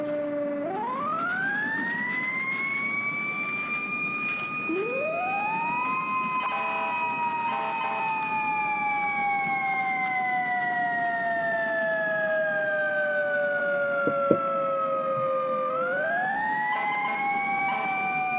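A fire engine siren wails loudly and steadily, its pitch rising sharply and then sliding slowly down in repeated long sweeps, with no talking.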